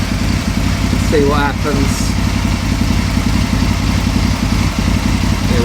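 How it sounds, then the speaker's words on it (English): An Aprilia motorcycle engine idles at tick over revs, a loud, steady low rumble running throughout, with someone speaking briefly over it near the start. "So back to that, tick over revs."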